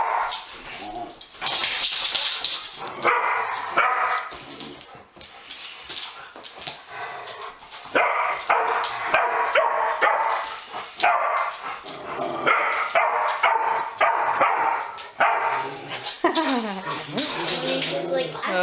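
A twelve-week-old Rottweiler puppy barks, yips and whimpers close by in repeated bursts, with people talking over and between the barks throughout.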